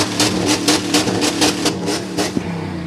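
A car engine revs up hard in repeated surges ahead of a burnout, loud and close, pulsing between bursts of throttle with a sharp knock near the end.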